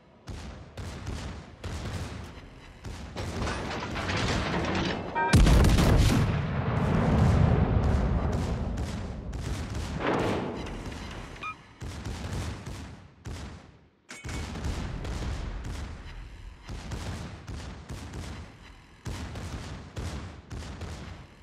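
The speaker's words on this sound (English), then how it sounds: "Concentrate fire on the enemy warship." Naval guns boom repeatedly in a warship battle in the video game Schlieffen, a dense, loud barrage of heavy blasts with a big sustained roar midway and a brief gap before firing resumes.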